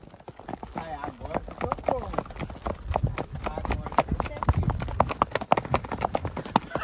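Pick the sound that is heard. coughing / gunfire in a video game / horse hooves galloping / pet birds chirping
horse hooves galloping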